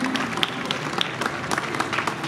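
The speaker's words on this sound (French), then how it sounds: "On peut les applaudir" At the centennial Dijon fair, a crowd applauds apprentice bakers with steady, brisk clapping of moderate loudness, mixed with scattered voices and background murmur.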